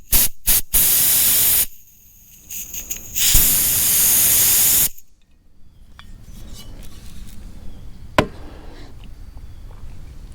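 Gas hissing from a leaking bottle valve on a refurbished cylinder, loud bursts of hiss that start and stop abruptly, then quieter handling noise with a sharp click.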